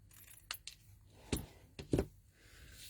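Scissors snip a few quick, faint cuts in a quiet room, with small metallic clicks between them.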